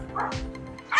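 Belgian Malinois puppies in a kennel yip and bark in short, close bursts, with a brief whimper between them.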